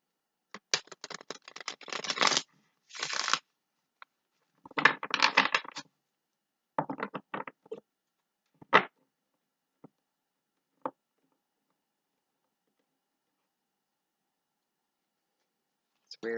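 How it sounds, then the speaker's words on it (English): Tarot cards are shuffled by hand in several quick, crisp riffling bursts close to the microphone, separated by short pauses and a few isolated taps, with no talking over them. "One more shuffle."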